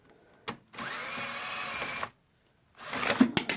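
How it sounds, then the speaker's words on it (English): A power drill backs out 5/16 bolts while a Briggs & Stratton Quantum engine's carburetor is removed: one steady whir lasting over a second, then a shorter, rougher burst, close and loud with no talk. "I would recommend using a power tool to help you get out the bolts"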